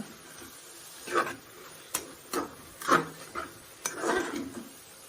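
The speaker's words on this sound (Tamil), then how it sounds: "வேக வச்ச மட்டன் போட்டுட்டுங்க நல்லா ஒரு கிண்டி விட்டுக்குவோம் மசாலாவோட" Boiled mutton and masala stirred in a pot for biryani, giving a handful of sparse clinks and scrapes of a utensil against metal over a quiet kitchen background.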